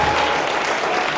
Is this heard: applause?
yes